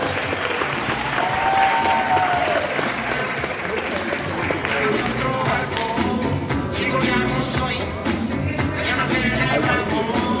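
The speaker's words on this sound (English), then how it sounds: "Give them a round of applause." Steady applause from an audience fills the whole stretch, dense and continuous, with voices mixed in beneath it at a live monster-movie event.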